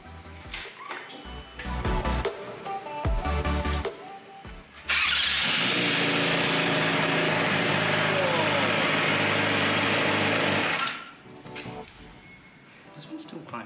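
Yamaha R6 sport motorcycle engine running during a throttle body sync, a steady loud idle with revving that surges for about six seconds in the middle, with people talking before and after.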